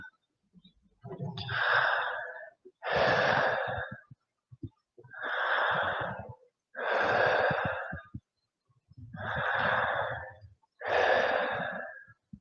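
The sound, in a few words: deep breathing during yoga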